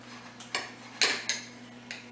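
Knife cutting slices from a pan-seared, oven-baked pork loin on a board, a few short, close, crisp taps and scrapes spaced about half a second apart over a quiet hum.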